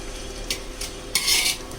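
Mutton biryani being gently stirred in a pot, light scraping and clinking of a spoon against the vessel in a few short strokes, the longest one near the end, with no voices.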